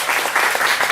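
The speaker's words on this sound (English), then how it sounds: "A big round of applause for our guests this evening, Dawn Thompson and Gwyn Bevel." Audience applause at an evening talk event with guests, a dense, steady wash of clapping hands filling the whole moment, close and continuous.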